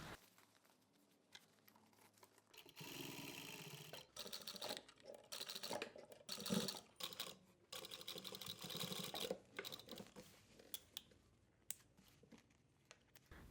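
A sewing machine stitches along the original hem line of a pair of jeans in quiet bursts of whirring, with brief pauses and fabric handling between runs, close up and without speech.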